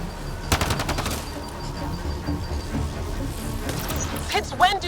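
Rapid automatic gunfire from a firefight in the sci-fi shooter Mass Effect Andromeda, loud bursts of shots over a dense battle din, with voices talking over the action.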